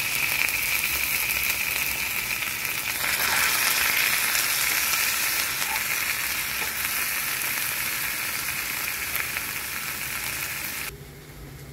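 Tomato paste with spices sizzles and spits steadily in a hot frying pan, a continuous crackling hiss that cuts off abruptly near the end.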